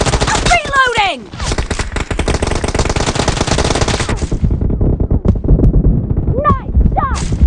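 Rapid automatic gunfire in the mobile battle royale PUBG Mobile, a loud, dense stream of shots running almost the whole time, broken by brief whooshing effects at the start and end.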